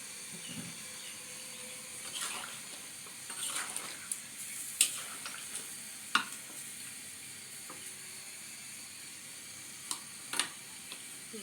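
Curry cooking on a stove, a soft steady sizzle and hiss of simmering food with scattered stirring clicks and taps, faint and close.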